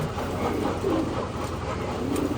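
Pigeons coo softly in the sunshine, low throaty calls blending into a continuous, fairly loud background hum with no voices.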